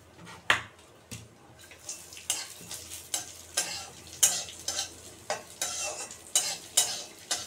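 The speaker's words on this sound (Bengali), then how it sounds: "কাজু কিশমিশ আলমন্ড এগুলোকে ভেজে নেব একটু" Cashews, raisins and almonds frying in a pan for dry fruit laddu, with a steady sizzle under repeated scraping stirs of a spoon against the pan, close and clear with no talk.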